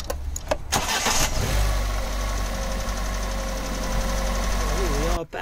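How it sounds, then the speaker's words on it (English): A Fiat 500 engine cranks briefly and fires, then settles into a steady, loud idle close by with a low mechanical drone that runs for several seconds before a short burst of other noise at the end. "the engine should start now"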